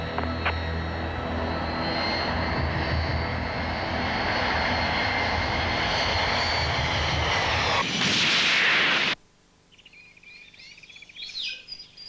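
A Qantas airliner landing at Perth, a loud sustained engine roar that swells into a whooshing peak as it passes close, then cuts off abruptly, leaving faint birdsong afterwards.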